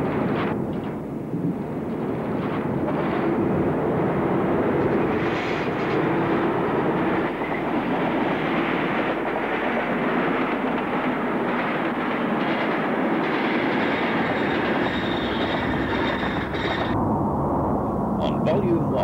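British diesel locomotive number 31117 rumbles along the rails in a continuous, fairly loud run, its steady drone mixed with wind buffeting the microphone.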